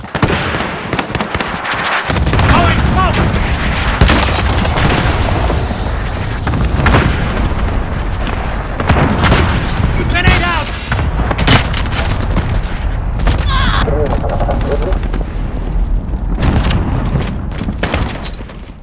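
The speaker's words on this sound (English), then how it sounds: "Enemy cluster strike, take cover." Enemy cluster strike in Call of Duty: Modern Warfare: a dense barrage of loud, overlapping booms and crackling blasts rolls on almost continuously, heavy and close.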